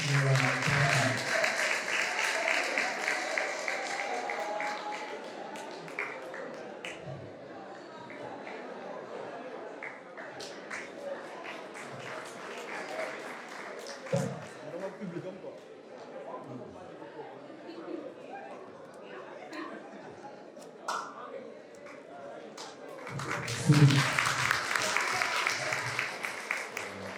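An audience applauds at a university academic ceremony, with clapping bursts at the start and again near the end, a quieter patter between, and someone speaking over the room at times.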